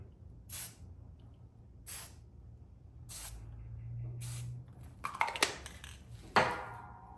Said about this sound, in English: I'm just going to use a little bit of spray paint